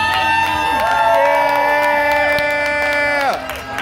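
Crowd cheering at a team poetry slam final at the Utah Arts Festival, with loud sustained whoops and hollers ringing over a steady roar for several seconds before dropping off near the end.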